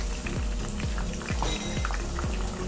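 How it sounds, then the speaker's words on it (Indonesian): Banana slices frying in hot oil for chocolate banana chips, a steady close sizzle and bubbling with soft repeated clinks or stirring strokes at a regular pace, no talk. "Nah ini kita langsung goreng aja nih"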